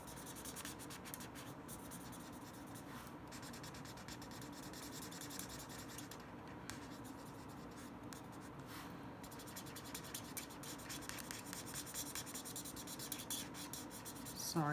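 Coloring markers rub and scratch continuously on paper while blending in flower artwork for a Stampin' Up! card, a close, steady, faint scraping texture with no talk.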